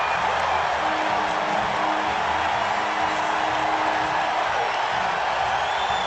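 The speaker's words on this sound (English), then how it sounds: "listen to this crowd" A ballpark crowd roars in a sustained, dense wash of cheering after Barry Bonds's game-tying home run splashes into the water, loud and continuous throughout with no clear individual voices.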